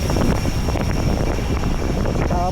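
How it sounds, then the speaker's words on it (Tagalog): Strong wind buffets the microphone during a bike ride at Rizal Park (Luneta), with a constant low roar and rumble, gusting steadily throughout the short stretch. "Tapos ang lakas ng hangin."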